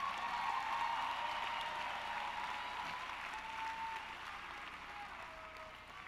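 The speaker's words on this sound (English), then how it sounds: "Give yourselves a round of applause" The 2018 Tuskegee graduating class applauding at spring commencement, a broad, distant wash of crowd clapping in a large space that gradually fades, with no talk over it.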